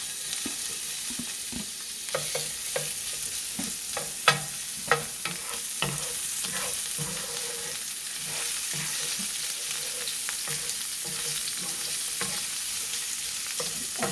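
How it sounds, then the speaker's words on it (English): Small cut shrimp sauté in oil in a pan over medium heat, giving a steady close sizzle broken by irregular scraping stirs. "And I'm going to saute the shrimp."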